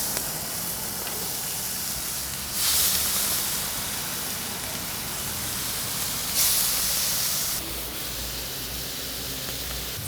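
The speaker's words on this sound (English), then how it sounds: "I'm gonna get it primed with a little bit of duck fat, and we'll just sear these up and cook them through" Cheese taquitos sear in duck fat on a teppanyaki griddle over medium-low heat, giving a steady, even sizzling hiss with two brief louder bursts partway through.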